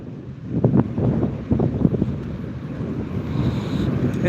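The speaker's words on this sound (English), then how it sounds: "Woo, it's windy." Steady wind buffets the microphone with low rumbling gusts, heard alone for several seconds during a morning walk at a truck stop.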